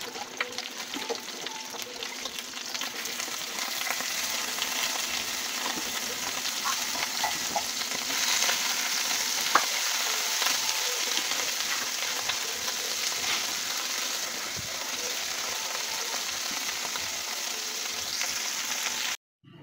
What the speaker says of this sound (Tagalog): Dito na lang prito.